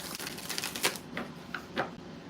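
Tarot cards being shuffled by hand, a few quick riffling and tapping bursts spread over a couple of seconds, fairly quiet and close, with no talk.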